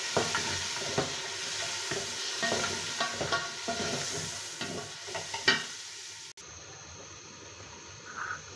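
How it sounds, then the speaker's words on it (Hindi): Blended green chili and yogurt paste going into mutton pulao cooking in a pot, a close sizzle with repeated spoon scrapes and stirring, ending in a quieter low simmer after a sudden shift. "दस हरी मिर्चें और हाफ कप दही के साथ मैंने इसे ब्लेंड कर लिया, ये डालेंगे।"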